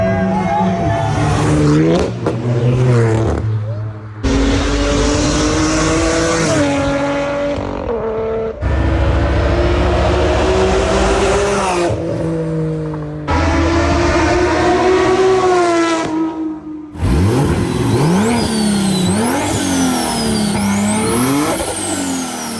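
Cars at a street car meet rev hard and drift in loud, repeated bursts with rising and falling engine pitch. Short gaps separate the passes, and spectators shout and talk over the engines.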